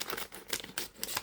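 Scissors snipping through a crinkly wrapper, a few quick close cuts with plastic rustling.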